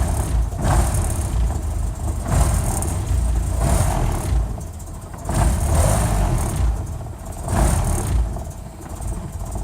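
A 1961 Land Rover Series II engine revs in repeated surges, roughly four rises and falls in under ten seconds, loud and close, with no talking over it.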